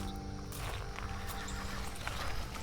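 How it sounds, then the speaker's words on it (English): A horse whinnies amid clip-clopping hooves and the low rumble of churning wooden carriage wheels, a dense, steady mix of sound with no pauses, set in a dark gothic horror scene. "The sound of a horse I heard, and the low echoes of churning wooden wheels."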